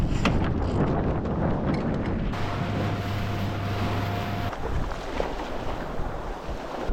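Sailboat under way in wind on the Solent, with steady wind buffeting the microphone, water rushing along the hull and a brief low tonal hum partway through; no talking.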